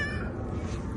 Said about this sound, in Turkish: Şimdi bu kedi